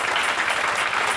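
A church congregation at an evening preaching service applauding, a dense, steady wash of many hands clapping together throughout, loud and close, without talk.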